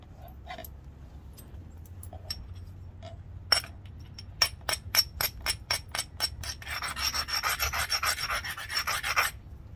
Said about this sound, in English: I'm going to shoot flakes across.